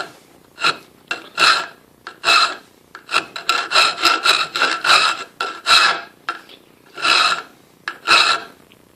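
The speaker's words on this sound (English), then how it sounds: "Guess I can use this coarse file" Coarse hand file rasping against metal at a belt-sander knife-grinder build, about sixteen distinct strokes in an uneven rhythm, loud and close with short pauses between bursts and no talking.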